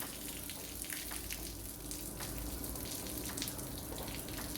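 Coolant draining from a removed pipe on a 2011 Ford Focus, a faint, steady trickle and patter of liquid with scattered drips.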